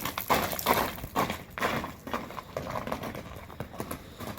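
Fast horse hooves clip-clopping at a Kyrgyz ulak (horseback goat-polo) preparation, a run of irregular thuds and taps at moderate distance over outdoor ambience.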